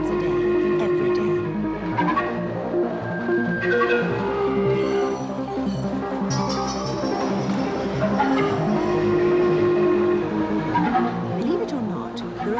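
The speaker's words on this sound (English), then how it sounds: "These trains travel the length of the tunnels many times a day, every day." Driverless Mail Rail postal trains run through London's underground tunnels, rattling and squealing on the rails with shifting metallic screeches and a constant rolling rumble, loud and close, while a voice talks over it.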